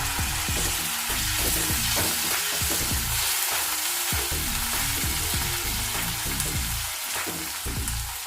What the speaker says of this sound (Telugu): అలాగే చిన్నగా కట్ చేసి పెట్టుకున్న అరకప్పు టమాటా ముక్కలు ఇవి కూడా వేసుకోవాలి.